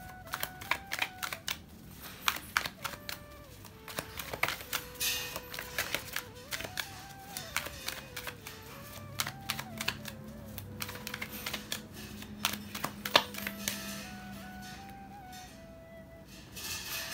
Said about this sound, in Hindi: हम एक बार कार्ड शफल कर लेते हैं